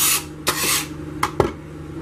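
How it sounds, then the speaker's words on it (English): Alcohol sprayed from a pump bottle onto a mold: several short hissing spritzes, close and fairly loud, with small taps and handling noises between them. "Let's spray these all with alcohol."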